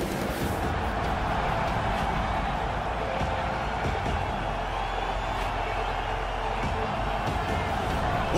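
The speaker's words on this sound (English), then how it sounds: "what a pop from the crowd as this guy makes the walk" A large arena crowd in the EA Sports UFC 3 video game roars and cheers steadily as a welterweight fighter makes his walk to the cage, a dense continuous wash of noise with no break.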